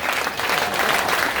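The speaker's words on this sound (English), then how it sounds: "Give yourselves a round of applause for coming out." Audience at a comedy show aboard the Megacruise applauds loudly, a dense, steady wash of clapping with a few cheers that holds at full strength for the whole short stretch.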